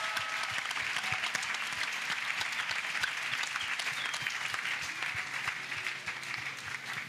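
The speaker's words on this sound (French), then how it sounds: "Acclamons ensemble. Let's clap." A crusade crowd applauds for Jesus, giving sustained, dense clapping from many hands that holds steady and loud throughout, with no voice over it.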